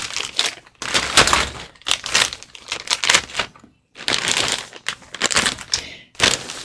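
A bioplastic mail bag crinkles and crackles as it is handled, in repeated loud, close bursts separated by short pauses, with no talk.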